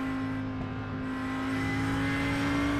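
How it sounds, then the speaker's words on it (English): A race car engine drones steadily from the cockpit in the iRacing sim at Road America, a loud, constant tone holding near one pitch throughout with no voices over it. "Engines sound better in the cockpit than exterior."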